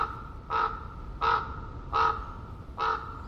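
A raven calls four times in a foggy old-growth redwood forest among hemlocks, each harsh, hoarse croak evenly spaced about a second apart over a low, steady ambient hush.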